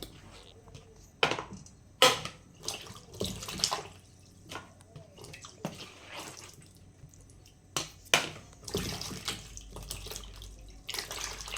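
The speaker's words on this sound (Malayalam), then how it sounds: "അപ്പോൾ നമുക്ക് 2-3 വെള്ളത്തിൽ കഴുകിയെടുക്കാം." Oyster mushrooms being washed by hand in a basin of water in a home kitchen, with repeated splashes, sloshes and sharp knocks in uneven bursts, close by and without speech.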